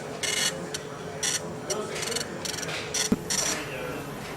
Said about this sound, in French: Le bruit de l'imprimante est un stimulus qui attire l'attention du contrôleur organique.